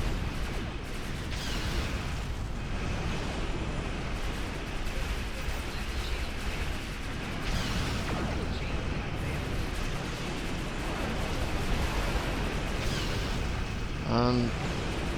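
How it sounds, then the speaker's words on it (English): Ship cannons on a Breen heavy raider in Star Trek Online fire amid a constant rumbling space-battle din, with repeated muffled blasts spread through the stretch and a brief sharp burst near the end. "I think the cannons are just right for this ship"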